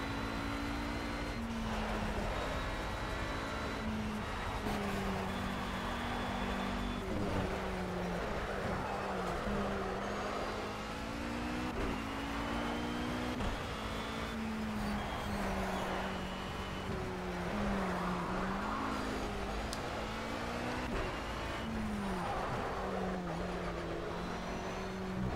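An Oreca race car in Project CARS laps Sonoma, its engine droning steadily and loudly throughout, with pitch climbing and dropping through gear changes and corners, no voices over it.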